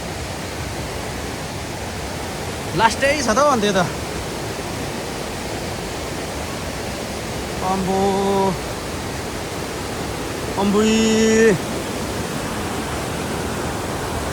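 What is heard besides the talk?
swollen river stream flowing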